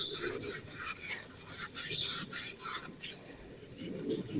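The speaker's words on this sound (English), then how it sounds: "I'm just going to touch it up with a little Scotch-Brite" A Scotch-Brite pad scrubbing the O-ring seal groove of a hydraulic cylinder, a rapid rasping back-and-forth rub in quick uneven strokes, close and fairly quiet with no talk.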